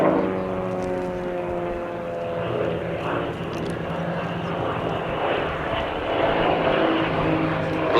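Several Vans RV-8 propeller aircraft roar overhead as they pull up out of an echelon formation during a display at the Duxford Summer Airshow, a steady, loud drone of engines that swells slightly toward the end.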